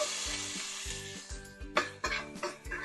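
Chopped onions and fennel seeds sizzle in hot peanut oil in a pan, a quiet crackle broken by several sharp clinks and scrapes of stirring, and no voice is present.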